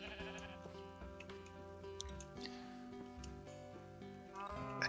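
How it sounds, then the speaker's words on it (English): Sheep bleating in the Minecraft video game over a steady backdrop of layered synth music, the short bleats fairly faint and mixed into the tones, no voices. "Sheep, stop destroying my crops."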